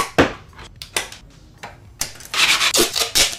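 Plastic Stormtrooper forearm armour piece being trimmed, close scraping and rubbing strokes in uneven bursts with short gaps, getting denser toward the end.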